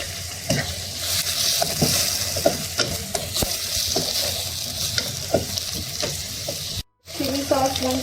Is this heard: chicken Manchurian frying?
yes